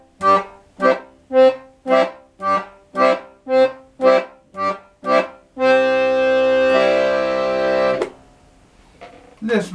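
Accordion playing a bass melody on the bass and chord buttons, a steady run of about a dozen separate pulsing notes followed by a sustained full chord that swells and then stops abruptly.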